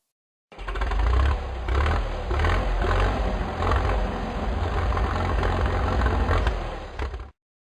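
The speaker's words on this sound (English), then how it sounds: "tractor" A tractor engine runs close by with a deep, uneven chugging rumble, rising and falling slightly in loudness, with a clattering mechanical texture over a steady low drone.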